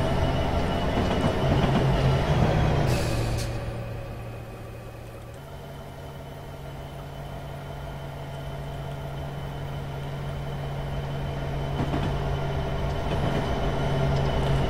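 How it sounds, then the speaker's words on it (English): An SD70ACe locomotive in Train Simulator rounds a curve on the Soldier Summit route, a steady rumble of rolling wagons carrying a sustained wheel squeal that holds through most of the run. "Train's going round a curve"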